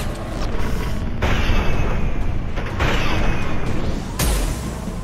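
Rapid gunfire and heavy booming blasts from a Mass Effect 2 firefight aboard the Collector ship, a dense, continuous barrage with several loud surges and no talking.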